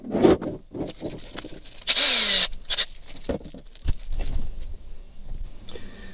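A power drill drives self-drilling screws while a Noco Genius Gen5X2 on-board battery charger is installed on a Panga 22 boat, with short whirring bursts close by between clunks and handling noises.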